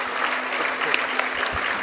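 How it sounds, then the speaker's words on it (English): Crowd at a girls' high school basketball game applauds in a gym, a steady wash of clapping at moderate volume with a few sharper claps standing out. "please give them a round of applause for being here today"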